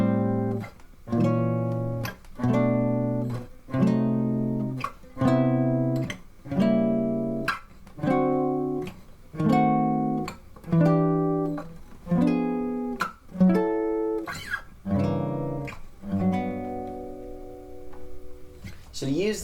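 A guitar plays a jazz chord progression with diminished seventh chords at a smooth, relaxed tempo, each chord struck and left to ring in a steady rhythm, with a final chord held and decaying alone.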